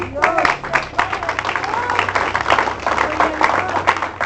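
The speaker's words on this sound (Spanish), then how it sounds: "Aleluya, denle un aplauso." Applause from a church congregation during a Spanish-language sermon, a dense, sustained clatter of many hands filling the room for several seconds, mixed with cheering voices and talk.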